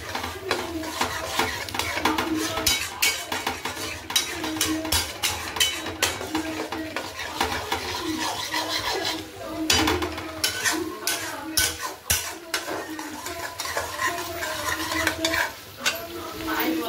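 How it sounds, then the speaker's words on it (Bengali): Spice paste being stir-fried in two kadai woks at once during Jagannath Puja cooking: continuous, busy scraping and clattering of spatulas over a steady sizzle, close and fairly loud throughout, without speech. "মোটামুটি দুটো কড়াই একসাথে মশলা কষানো চলছে"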